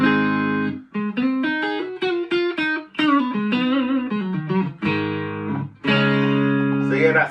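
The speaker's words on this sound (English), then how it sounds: "that's the neck pickup" An Aria Nashville Pro II electric guitar on its neck pickup, through a Blackstar ID Core Stereo 100 amp with no reverb, plays a clean, warm, rounded phrase of plucked single notes and chords, ending on a sustained ringing chord.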